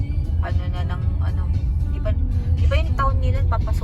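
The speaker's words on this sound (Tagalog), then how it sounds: "Ito po sa Tagodin, ang haba ng traffic." Busy road traffic with cars and buses rolling past, a steady low rumble under continuous nearby talking, with occasional brighter vehicle sounds rising and fading.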